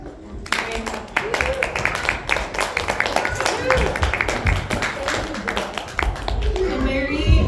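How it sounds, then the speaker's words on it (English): A room of people, children among them, claps loudly for a guest speaker at a church gathering, quick dense hand claps that carry on steadily with voices and chatter mixed in. "Can we give a very big clap for Mary?"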